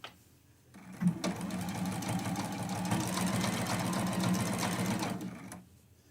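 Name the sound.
sewing machine stitching a quilt seam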